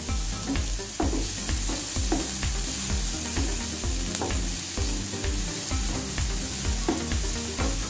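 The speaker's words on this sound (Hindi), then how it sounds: "1 मिनट के लिए इसे फ्राई कर लेते हैं।" Green chillies frying in a pan for a chicken and vegetable sandwich filling, a loud close crackling sizzle with frequent stirring knocks and scrapes throughout, no speech.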